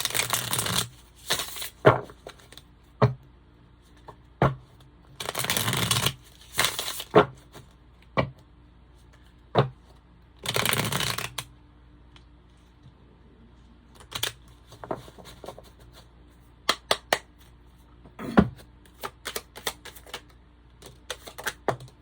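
Tarot cards shuffled by hand during a love reading, bursts of riffling card noise alternating with sharp slaps and taps as the deck is handled and cards drop, close up and without talk.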